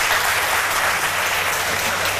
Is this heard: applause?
yes